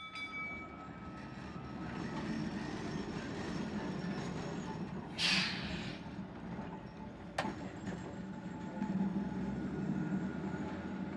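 The Auckland Dockline tram runs along street track with a steady rolling rumble and rattle, a brief squeal or hiss partway through, heard close and continuous without talk.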